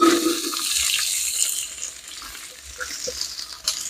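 Onions dropped into hot oil with cardamom pods, cinnamon sticks and cumin seeds give a bright hissing sizzle that is loudest at the start and then eases to a steadier, softer fry, close by with no speech.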